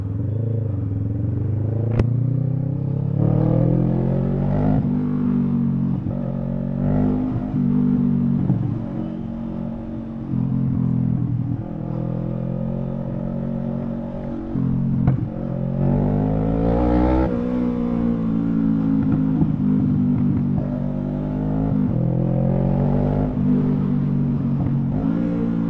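Traffic on the road heard from a Bristol Veloce 500 motorcycle, with a loud continuous engine drone that rises and falls with revving and passing cars, plus wind rumble and occasional clatter.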